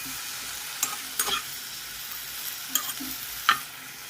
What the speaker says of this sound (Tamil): கருவேப்பிலையும் பிரண்டையும் போட்டு நல்லா நல்லெண்ணெய் ஊற்றி நம்ம வதக்குறோம்